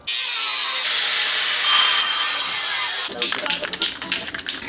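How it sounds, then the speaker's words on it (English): Steel angle iron has its pointed ends ground off for a bathroom sink pedestal in a 1915 house: a loud, steady, hissing grind for about three seconds, then it stops and gives way to lighter scraping and tapping. "the points up here on the ends of the angle iron need to be ground off so that the sink can sit flush with"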